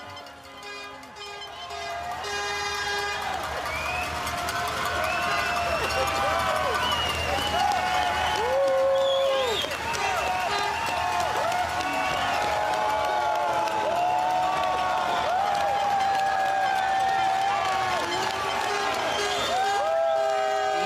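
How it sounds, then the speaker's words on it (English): A large crowd at the Saskatchewan Roughriders 2025 Grey Cup parade cheers, claps and whoops steadily for twenty seconds as the cup is lifted. Whistles and shouts ride over the dense roar, and voices talk in among it. "you can hear the crowd as the Grey Cup lifted one of many times so far"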